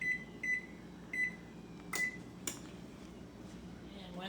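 An oven control panel beeps as it is set to 450 degrees, giving four short, clear electronic tones spaced across the first two seconds over a quiet kitchen background with a couple of soft clatters.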